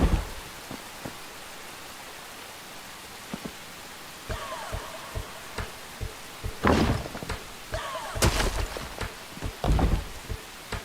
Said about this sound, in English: but in the game right now it's raining.